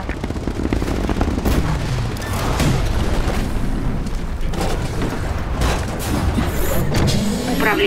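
Titan cannon fire in the video game Titanfall, a dense barrage of loud booming blasts and rapid gunfire that keeps up at full intensity throughout, with explosions layered on top.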